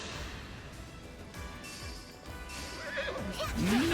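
In the Fire Emblem Engage video game, a horse lets out a loud, rising whinny near the end. Before it comes a quieter stretch of game ambience with soft hoof-like thuds.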